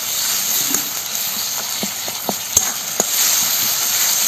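Steady sizzling hiss of onions frying in a pan, with a few soft scrapes and taps of a spoon stirring.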